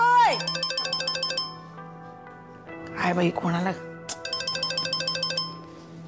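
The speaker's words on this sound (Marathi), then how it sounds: "फोन वाजतोय." A phone rings in a domestic drama scene, repeating a bright electronic ringtone pattern in two bursts, with a voice speaking briefly between them.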